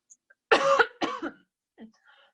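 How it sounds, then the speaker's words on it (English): Two sharp coughs in quick succession, close and fairly loud, followed by a softer throat noise and faint breathy sounds in an otherwise quiet room. "I'm gonna cough real quick"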